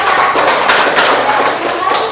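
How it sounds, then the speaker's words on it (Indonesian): Classroom applause for a student group after their presentation: a dense, steady patter of many hands clapping fills the whole stretch, with voices mixed in underneath. "kita tepuk tangan dulu buat kelompok"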